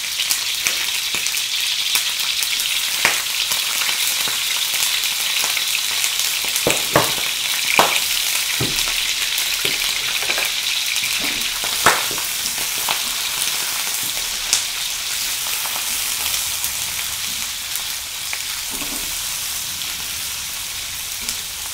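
Prawns fry in hot oil for char kway teow, a loud, steady sizzle up close with scattered pops and stirring clatters throughout.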